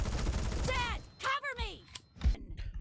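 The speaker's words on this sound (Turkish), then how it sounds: "Arkadaşlar P90 baya etkili bir silah" Rapid bursts of P90 submachine gun fire in PUBG Mobile, with short clattering volleys mixed with a voice and exclamations over the shots.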